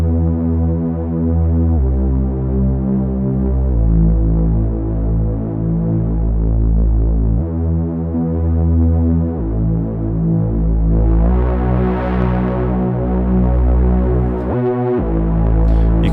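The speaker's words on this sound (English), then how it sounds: "it's this Reese bass with another layer on top of it, which is a fifth note over here at oscillator B" A Reese bass synth patch with a higher fifth layered on top drones loud and continuous, its thick detuned tones stepping between held notes in a steady afro house style line, with a brief glide near the end.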